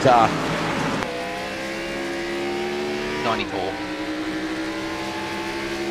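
NASCAR X Series race cars circuit Watkins Glen International, loud engines droning and shifting with a sharp gear-change drop near the start and another rev swell midway, heard under steady commentary voices.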